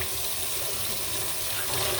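Tap water runs steadily into a kitchen sink while a microwave part is rinsed, a close continuous splashing hiss with slight shifts as the item moves under the stream, no talking.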